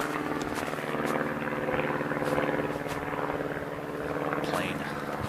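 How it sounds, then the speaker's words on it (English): A propeller airplane drones steadily overhead, a continuous engine hum heard outdoors during a walk with no talk over it. "Plane."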